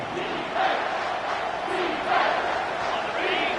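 A stadium crowd roars in a college football video game as the home side's defense tries for a red-zone stop, a broad, sustained wall of cheering that swells in waves, with a commentator's voice faint beneath.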